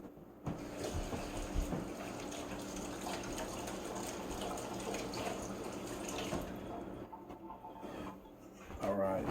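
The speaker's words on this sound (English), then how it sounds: "let's take it back over to the sink to get the rest of this junk off." Water gushes steadily from a kitchen sink tap while food is rinsed, a dense continuous splash that thins briefly near the end before surging again.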